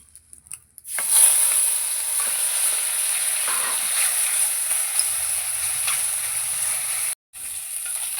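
Amudi fish fry in hot oil in a wok, giving a steady, loud sizzling hiss that starts abruptly and carries on evenly, with a brief cut near the end and no talk.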